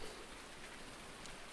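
Steady rain falls in a soft, even hiss, a continuous wash of patter on a surface with no distinct drops standing out and no voices.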